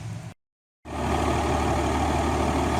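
A Cummins diesel truck engine fitted with a PRV rail plug runs steadily while driving, a loud continuous low drone that cuts out briefly near the start and then holds constant.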